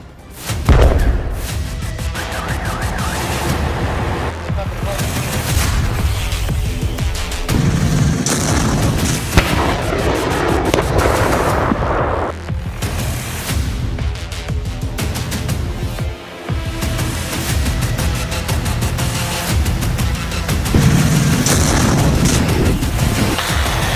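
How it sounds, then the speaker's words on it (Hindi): Heavy explosions from Russian Zircon missile strikes and bomber attacks on Ukrainian cities, a dense, continuous roar of booms and thuds rolling one into another at high loudness throughout, without speech. "ये पुतिन की ज़िरकॉन मिसाइलों के धमाके हैं।"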